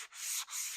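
Light hand sanding over a tung oil finish on a wooden guitar body built from pallet wood and 2x4s, a steady close abrasive rasp in two strokes with a brief pause between.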